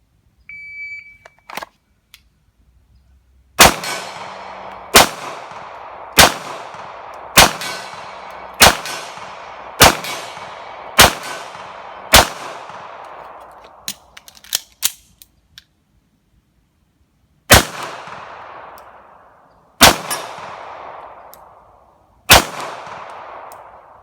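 Star BM 9mm pistol shots ring out against steel targets, about a dozen sharp loud reports in spaced groups, each with a bright metallic ring decaying after it, with a few quiet clicks between strings.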